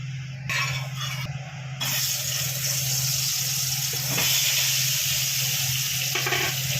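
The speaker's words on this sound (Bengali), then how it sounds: "নুন আর হলুদ দিয়েও আলুটাকে ভেজে নিচ্ছে" Potatoes frying in oil and ghee with salt and turmeric give a steady, loud broadband sizzle with a low hum running underneath, and no one speaks.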